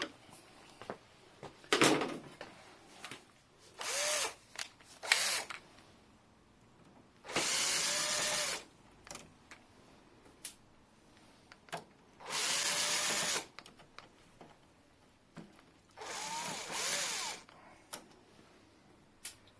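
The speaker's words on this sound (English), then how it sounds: "Now we're going to remove 6 screws total." Electric screwdriver backing screws out of the fuser unit of a Xerox Phaser 3320-series laser printer, three sustained whirring bursts of a few seconds each between shorter clicks and handling noises of parts and covers, close up with no talk.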